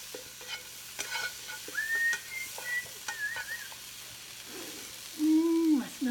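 Pan-fried potatoes with spices cooking in a home kitchen, heard as quiet sizzling with scattered spatula scrapes and taps, while someone whistles a few bright tones over the pan.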